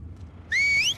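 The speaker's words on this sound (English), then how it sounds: "Whistling like scars." A short, two-part whistle of the Scars (Seraphites) in The Last of Us Part II, a thin rising-then-holding tone cutting in midway over a low game ambience, fairly close and clear with no talk.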